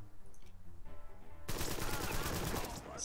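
Gunfire in the video game Empire of Sin, a sudden dense burst of rapid automatic shots that starts halfway through and runs to the end, loud and close after a quieter stretch.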